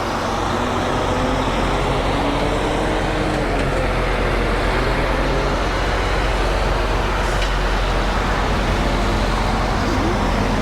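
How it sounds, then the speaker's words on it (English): Steady, loud road rumble of heavy traffic as a semi truck roars past close by, with no talking. "We're gonna let this semi go so I don't die."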